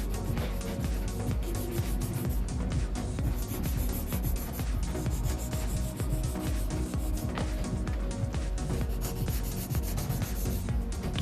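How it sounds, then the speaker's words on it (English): A 240-grit nail file is drawn over a fingernail in quick, steady strokes, making a continuous close-up scratchy rubbing with no talk over it. "This is the 240 grit, which is the softest file that we make."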